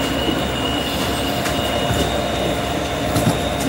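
A train pulls out of Union Station with a steady, loud rumble and rolling clatter on the rails, a faint squeal of wheels riding over it, and no talking.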